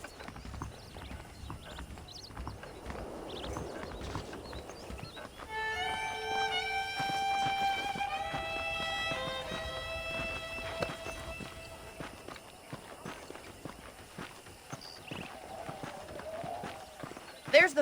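Horse hooves clip-clop at a walking pace in the Red Dead Redemption video game, steady and fairly close, with soft game music and brief ambient sounds around them.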